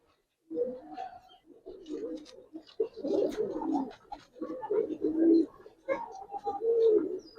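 Pigeons, including female Giribaz pigeons, cooing in repeated low, throaty bursts, close and fairly loud, with short pauses between phrases.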